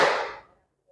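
A class claps hands together in one quick, crisp burst that decays within half a second, alone and without speech.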